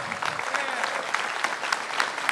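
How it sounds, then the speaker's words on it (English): Applause from an audience at a public community event with the mayor, greeting a group of Metropolitan Police Cadets; steady, moderately loud clapping with no gaps over the whole stretch. "Let's give them a round of applause."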